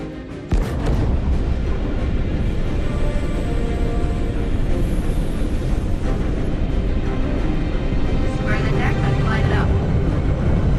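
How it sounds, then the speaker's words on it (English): A spacecraft is catapulted off a carrier deck in the video game Squadron 42, starting with an abrupt loud onset and followed by a sustained, heavy roaring rumble that fills the whole stretch. "hold on as you're launched off the deck of the carrier"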